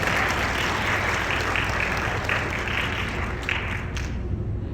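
Wedding guests applaud at a Korean wedding ceremony, a continuous, fairly distant wash of clapping from many hands that tapers off toward the end.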